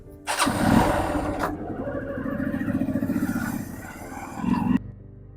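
A motorcycle engine cranks and fires up close by, settling into a loud, rough idle with a rhythmic chug before a brief rev near the end and a sudden cut-off.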